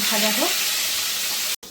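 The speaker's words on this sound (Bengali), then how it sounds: "মাছটা ভালো করে ভাজা হয়ে গেছে" Fish frying in hot oil for a Bengali fish curry, a loud steady sizzle that fills the whole moment, a voice briefly audible at the start before a short cut near the end.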